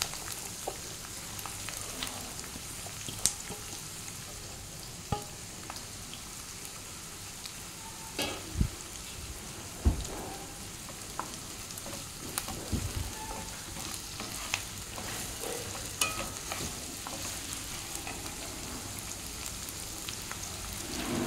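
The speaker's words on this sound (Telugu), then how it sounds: "ఆనియన్స్ని బాగా వేగనివ్వాలి" Thinly sliced onions frying in oil for prawn dum biryani, a faint, even sizzle running throughout with occasional light taps and scrapes of stirring.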